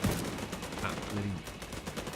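Rapid weapon fire in The Division 2 rattles in dense bursts across the whole stretch, fairly loud and continuous, with game ambience behind it.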